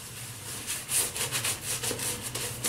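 A shaving brush swirls shaving soap into a lather, giving a continuous soft scrubbing and rubbing sound with quick repeated strokes, close up and with no voices.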